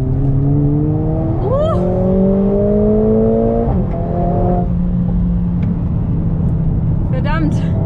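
Loud Mercedes-AMG A45 S engine revving up through the gears with ESC in Sport mode, rising pitch with a shift around the midpoint, steady and close; a faint voice briefly under it.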